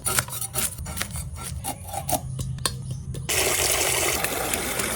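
Hilsa fish pieces are rubbed and rinsed by hand, with scraping and rubbing strokes followed by a rush of running water near the end.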